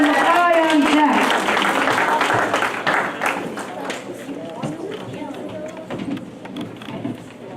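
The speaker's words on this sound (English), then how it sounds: "let's have a round of applause for Isabella coming up to the microphone" An audience at a fifth-grade school poetry slam applauds a student poet heading to the microphone, with clapping and cheers mixed with a voice at first, then fading to a quieter, scattered patter.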